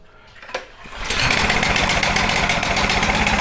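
A small pull-start engine with the choke on catches after a few quiet pulling sounds and roars into a steady, loud, buzzing idle that carries on evenly to the end.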